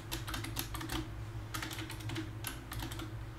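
Fingers tap a password on a computer keyboard in quick, uneven bursts of close, crisp keystrokes with short pauses between groups, over faint background hum and no speech.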